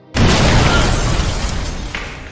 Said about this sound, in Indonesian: akibat ledakan itulah Tania harus koit dengan sangat mengenaskan.